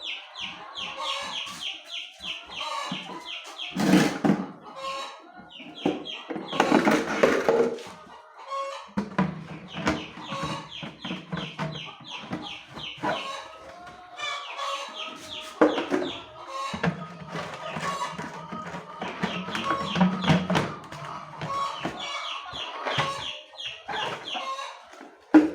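Baby chicks in a brooder give a continuous chorus of high cheeps and chirps, close and busy, with occasional clucking and a few bursts of louder activity.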